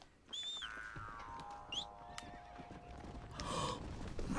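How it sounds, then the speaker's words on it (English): A horse on fire in the video game Undead Nightmare whinnies shrilly, then gallops with close, steady clip-clop hoofbeats. A louder rush of game noise swells near the end. "My horse is on fire."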